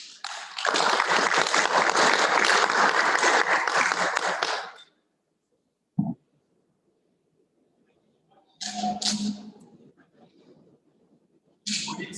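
Applause at a regional consultative forum: a loud, dense burst of clapping lasts about four seconds and then cuts off to near silence, followed by a few brief, scattered noises.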